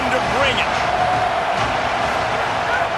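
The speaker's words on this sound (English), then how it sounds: "This crowd knows when to bring it." A stadium crowd in a college football video game, Texas Tech at Nebraska, roars in a steady, loud wash of cheering that fills the whole moment without a break.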